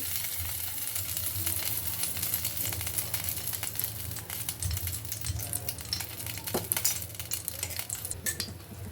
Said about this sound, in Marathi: आणि त्यामध्ये आपण जे मिश्रण तयार केलं होतं ते टाकायचं आहे